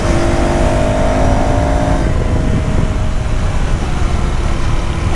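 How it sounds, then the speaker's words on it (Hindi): A 2026 KTM Duke 390 motorcycle pulls hard in fourth gear, its engine note rising steadily under loud, continuous wind rush. "अगर मैं इसको चौथे गियर से भी अगर मैं RPM को खोलना चालू करूँ, then you will observe that how rapidly it pulls."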